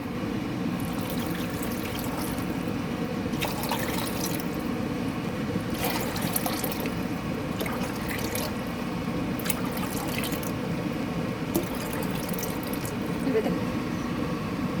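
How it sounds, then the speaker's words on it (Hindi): Six cups of water pour onto sugar for gulab jamun syrup, a steady continuous trickle and splash running throughout beneath a speaking voice. "एबे एथिरे 6 कप पानी देबा"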